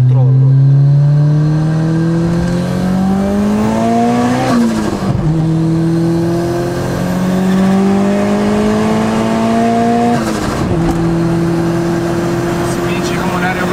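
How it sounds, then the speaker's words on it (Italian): Modified Fiat Uno Turbo engine revving hard with its wastegate howling, loud close rising pitch sweeps through gear changes, two distinct shifts with a brief dip before pulling again. "c'è questo suono poi che esce da qua davanti che ti parla. La valvola con la Westgate che ulula."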